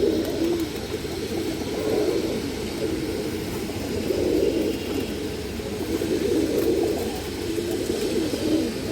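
Purebred Mussoldom pigeons, an old-line pair, coo steadily in low, throaty rolling calls that swell and ease in waves, fairly close and continuous, with faint background hum.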